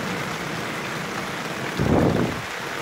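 Rain falling outdoors onto a makeshift shelter and bench, a constant close hiss of drops with a brief louder swell of splashing water partway through, no voices.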